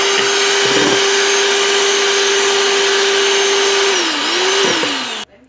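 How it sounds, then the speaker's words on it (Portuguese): An electric stand mixer beats three eggs until airy, giving a loud, steady motor whir at a constant pitch for several seconds. The pitch wavers briefly near the end before the motor stops abruptly. "Em uma batedeira, coloquei 3 ovos. Você vai bater até esses ovos ficar aerados."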